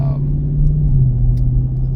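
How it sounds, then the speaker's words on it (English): A car engine rumbles low and steady from inside the moving vehicle, a constant close drone with a slight swell midway and no clear revving. "Do you hear that engine roar?"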